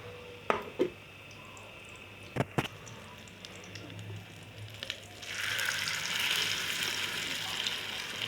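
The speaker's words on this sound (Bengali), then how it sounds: "ডিমটা এখন আমি একটু লাল লাল করে ভেজে নেব।" An egg fries in a pan, browned until crisp, beginning with a few sharp clinks and taps before a soft sizzle swells and holds near and moderately loud toward the end, with no talk.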